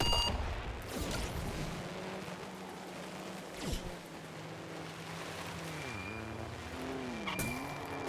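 Vehicle on spiked wheels drifting in the Trailmakers sandbox game, engine droning steadily while tires squeal and skid in repeated swooping sweeps, loud and close, with no talk.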